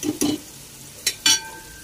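Zunka ingredients stirred in a pan in a Maharashtrian kitchen: a few brief scraping and sizzling strokes, close and moderately loud, separated by quiet gaps, with no talking.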